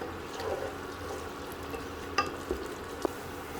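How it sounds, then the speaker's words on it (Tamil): Onions sautéing in a pan for Arabian mandi chicken biryani give a steady soft sizzle, with a few sharp utensil clicks and scrapes near the end. No one speaks. "நம்மளோட வெங்காயம் எல்லாம் நல்லா வதக்கியாச்சு."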